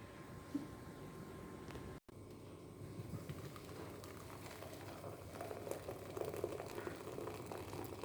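Tea simmering in a pot on a home stove, a steady low bubbling rumble with a faint continuous hiss, close and even throughout, broken by a brief cut.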